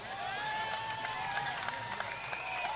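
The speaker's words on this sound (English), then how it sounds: "the Hawk fans are cheering" Iowa Hawkeye basketball fans cheer in an arena during a game against Clemson, a broad, steady crowd roar with sustained tones running through it.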